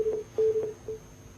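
Telephone tones sound after a call is cut off, four short, evenly spaced beeps repeating at a steady rhythm, moderately loud with no speech.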